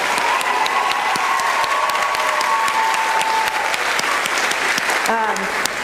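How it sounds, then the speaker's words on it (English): Dense, loud applause from a school choral informance audience for a tenor bass choir, filling the whole stretch at a steady level, with a brief voice breaking in near the end. "So please give them a round of applause."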